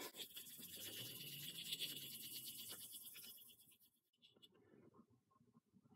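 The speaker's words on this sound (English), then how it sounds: "Just rub it in, and then just the heat from the friction will help" A wax and oil mixture is rubbed by hand into the wooden grip of a .45 LC single-action revolver, making a soft, steady scratchy friction sound that fades to near silence toward the end.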